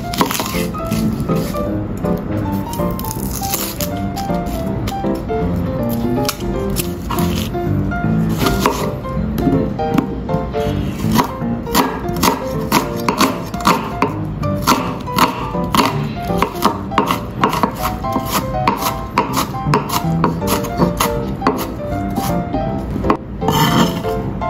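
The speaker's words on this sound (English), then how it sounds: "Peel and chopped onion." A knife chops a peeled onion on a cutting board for tomato egg drop soup. The quick, steady strikes repeat loudly and close for the whole stretch, with an occasional clink of dishes.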